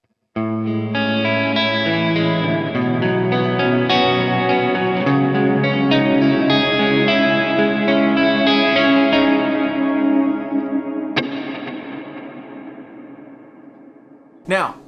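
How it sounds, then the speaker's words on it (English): A sustained electric guitar chord rings out with heavy reverb, loud and steady, then decays into a long washy tail, with a sharp pick strike near the end. "Here are my two tones, one without reverb and one with reverb."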